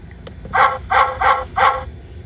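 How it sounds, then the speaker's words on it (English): Four short, synthesized dog barks from a CareTech ZeitGeist device in quick succession, a pair then another pair, close and clear over faint background noise. "A very synthesized dog bark."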